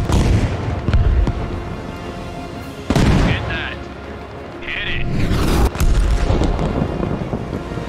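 A helicopter is blown up in the Arma Reforger military shooter, with heavy booms and blasts rolling over rumbling engine and wind noise. Players talk over the loud, chaotic battle.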